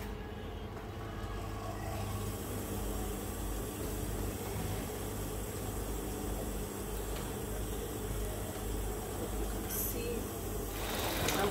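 Sewing machine stitching six skirt panels together at the side seams, a steady faint whirring run with no pauses.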